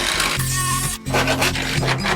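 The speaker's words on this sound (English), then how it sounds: "Biggest drill I got." A loud, close power drill whirring and grinding into material on a Mk2 Ford Escort in two sustained bursts separated by a brief pause.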